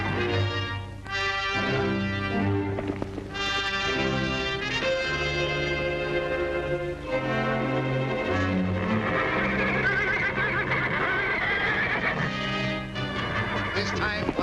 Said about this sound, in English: This time, Whitey decided to have it out with the black horse, once and for all.